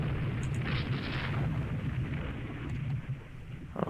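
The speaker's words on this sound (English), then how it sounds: "those are the secondary batteries going off" Warship secondary batteries firing in the naval game Rule the Waves 2, a dense rumbling barrage of booming gunfire blended into continuous roar, loud and steady with no talk.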